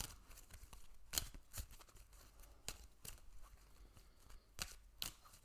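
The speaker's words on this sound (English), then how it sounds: "let's just give them a shuffle" Oracle cards from a moon-themed deck are shuffled by hand in a quiet room, giving soft papery riffles and flicks in irregular bursts with a few sharper snaps, close and intimate.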